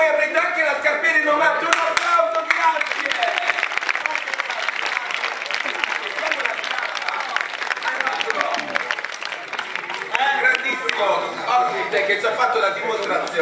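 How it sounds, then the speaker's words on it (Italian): An audience at a seaside cabaret show applauds with dense, sustained clapping lasting about thirteen seconds, loud and close, dipping slightly before swelling again near the end. "un applauso"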